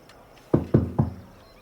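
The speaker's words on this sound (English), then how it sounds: "I'll roll on up to the door and tap at the door." Three distinct knocks on a door in quick succession, close and fairly loud against a quiet background, with no voices.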